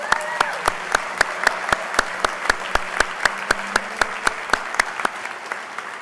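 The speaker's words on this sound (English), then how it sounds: "let's give her another round of applause." Clapping at an award banquet comes as a steady, evenly spaced train of sharp claps, fairly loud and close, over a low murmur of room ambience.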